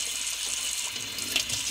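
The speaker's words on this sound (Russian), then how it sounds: "стекает вода, абсолютно не попадая вовнутрь." Tap water streams steadily over a boot treated with lard, a close, even hiss of running water with no voices.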